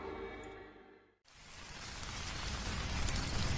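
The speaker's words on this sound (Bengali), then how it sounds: "মুষলধারে বৃষ্টি পড়ছে" Heavy rain pours in a cartoon scene, a dense, loud hiss that swells after a brief quiet gap and keeps building, with no voices.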